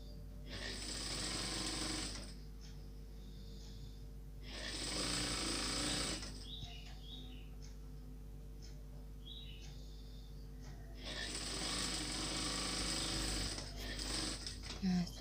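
A sewing machine hems a child's garment in three bursts of fast, rattling stitching separated by quieter pauses, with a low steady hum throughout and no talking.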